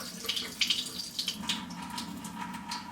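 Liquid drains out of a can of lima beans, a close gurgling trickle with splashy bursts at the start, settling into a steady thin flow.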